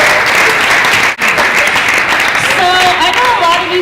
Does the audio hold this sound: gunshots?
no